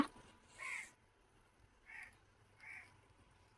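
A crow caws three times beside an outdoor cooking fire where aubergine and rohu fish curry is being made, the calls spaced about a second apart over quiet background.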